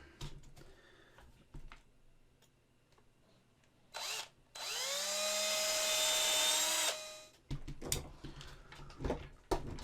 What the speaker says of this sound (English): It's just drilling bigger holes around it and then hoping I can,